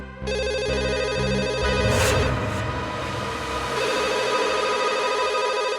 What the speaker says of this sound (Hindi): इतनी रात को कौन फोन कर रहा है?